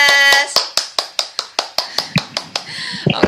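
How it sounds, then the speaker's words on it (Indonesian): About a dozen crisp hand claps of applause in an even, deliberate rhythm, close by, following a brief tonal sound at the start, during a classroom presentation. "Kasih tepuk tangan dong untuk kelompok cerdas."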